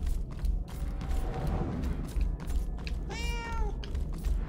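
A cat meows once with a clear rising-falling call in the video game Murdered: Soul Suspect, over steady ambient game noise.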